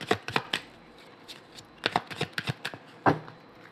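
An oracle card deck is cut and shuffled by hand in quick bursts of riffling, flapping card sounds. Two clusters are separated by a short pause, close and fairly soft.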